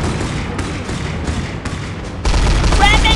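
Rapid gunfire from a video game battle rattles out as a dense, loud fusillade of shots that grows heavier and fuller partway through.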